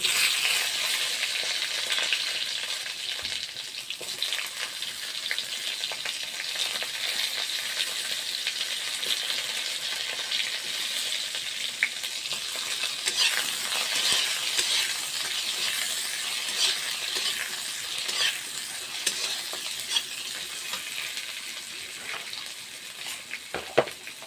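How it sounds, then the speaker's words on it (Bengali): Eggplant pieces fry in a pan, a dense, bright, continuous sizzle with faint scraping of stirring running unbroken and close, no voices over it. "এখন বেগুনগুলো দিয়ে দিচ্ছি।"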